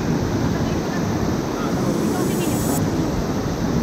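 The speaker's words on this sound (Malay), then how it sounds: "itulah air terjun Sungai Keleming" The Sungai Keleming waterfall gives a steady, loud, low rushing roar of falling water with no break across the whole stretch.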